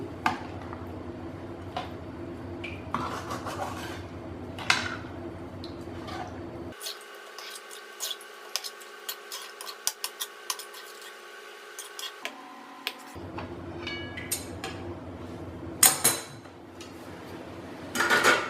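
Mango-garlic pickle masala is mixed in a bowl with a spoon, giving quiet, irregular clinks, taps and soft squishy scrapes, close up and otherwise fairly still.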